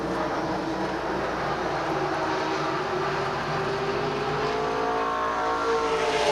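Race cars roaring around the oval at Beech Ridge Motor Speedway in 1990, a dense, steady wall of loud engine drone with shifting pitch as the pack passes, no voices heard.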